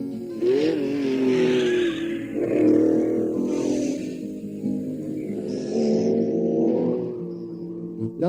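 A Ford race car roars past at speed during the 1965 Targa Florio, its engine note rising and falling as it passes, with a roadside recording quality and no voices.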